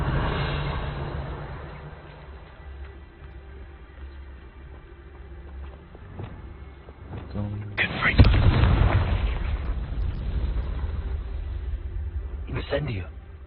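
The Incendio fire spell is cast in Hogwarts Legacy, a sudden whooshing burst of flame that blooms loud and rumbles briefly, following a spoken incantation amid background game ambience and talk.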